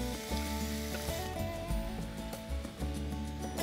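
Shrimp frying with garlic in a pan, a steady sizzle with irregular stirring knocks and scrapes, close at moderate loudness, with a faint hum running underneath.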